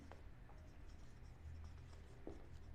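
Quiet pen strokes scratch across paper in short bursts during journal-entry bookkeeping, close and faint over a low background hum.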